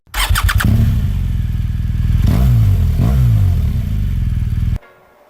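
A BMW R1200GS motorcycle loaded with luggage starts with a short clattering crank, then settles into a loud, close, steady rumble with a couple of rising revs before cutting off abruptly.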